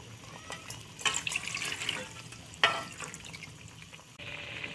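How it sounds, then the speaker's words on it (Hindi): Water pours from a ladle into a pan of frying masala pulao rice with potatoes and peas, giving a close hissing splash and sizzle with a couple of sharper bursts, ending in a steady simmering hiss. "तो अब मैं इसमें दूसरा कौला भी पानी का शामिल करूँगी"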